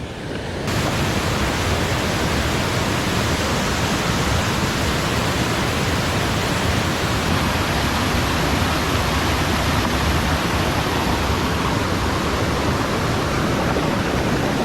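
Water rushes from the raised shutter of a check dam at Shoolam waterfall in Piramadom, Kerala, a loud, steady, unbroken roar that fills the whole stretch after a brief quieter start.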